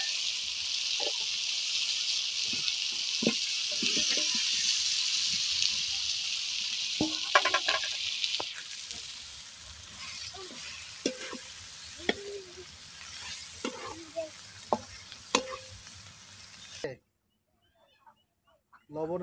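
Meat dropped into hot oil for a Pakistani-style dish gives a loud, steady sizzle for about seventeen seconds, broken by clinks and stirring knocks, before it cuts off abruptly to near silence.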